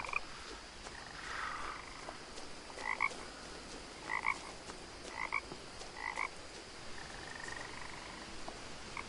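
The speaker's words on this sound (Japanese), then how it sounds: "あ、カエルの鳴き声が聞こえる。" Frogs croak in a video game, a series of short, evenly spaced croaks about a second apart over a soft ambient background.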